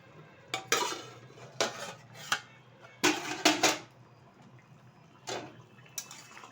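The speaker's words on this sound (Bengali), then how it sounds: "ঢাকনাটা তুলে দিচ্ছি।" A lid is lifted off a pot of thin rohu fish curry on a medium flame, giving several quiet metallic clanks and scrapes in separate bursts, with no speech.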